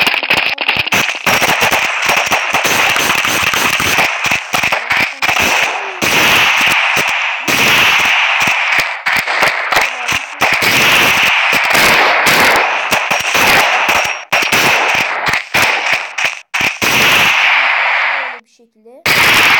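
Rapid bursts of gunfire from a sniper-and-rifle shooter video game on a ruins map, dense crackling volleys with brief gaps, loud and close throughout, ending in a short pause.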